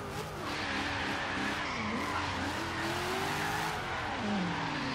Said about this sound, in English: before we get started, a little bit of revs. Sounds amazing